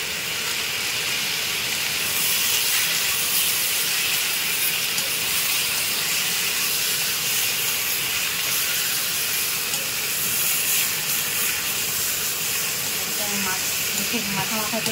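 Mustard paste sizzles steadily in a pan with hilsa fish head and greens, a loud continuous hiss and spatter that holds for the whole stretch with a brief flurry of crackle near the end.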